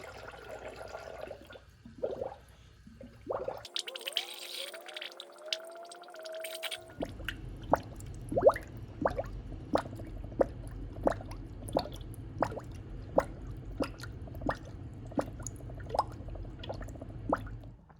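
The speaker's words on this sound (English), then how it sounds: "Now we can start pouring in our coolant." Coolant poured through a funnel into a Jeep HEMI radiator, opening with gurgling and glugging, then a steady train of small drips and bubbling pops at a regular pace, close and moderately quiet, with no talk.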